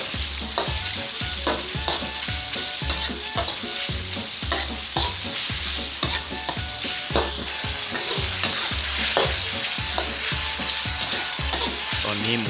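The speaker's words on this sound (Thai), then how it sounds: "ลงไปทอดให้สุกพอประมาณนะครับ ทอดไปเรื่อยนะครับก็ใช้ไฟกลางนะครับ" Pork fries in oil over medium heat with garlic, sizzling continuously and close up while a utensil stirs and scrapes the pan in a steady, repeated rhythm.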